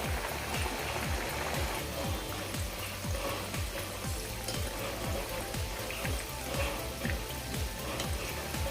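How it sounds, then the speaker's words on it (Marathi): Potato cubes coated in bread crumbs fry in hot oil with a continuous dense crackle and sizzle, close and even throughout, with no voices. "आता ह्यासुद्धा ब्राऊन रंगाच्या होईपर्यंत आपण फ्राय करून घेऊयात"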